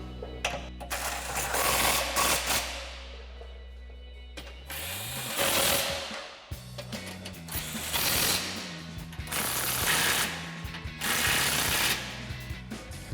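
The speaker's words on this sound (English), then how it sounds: "Now we can tighten the rest of our bolts down with our 18mm socket." A ratchet with an 18mm socket tightens exhaust bolts on a Jeep Gladiator JT during a Borla Climber ATAK single exhaust install. It gives repeated close clicking bursts with brief pauses and a short low hum partway through, with no talk.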